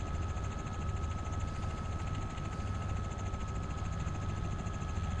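A helicopter engine runs at low throttle, a steady, continuous mechanical drone with a constant whine and no change in pitch, heard close up and without any talking.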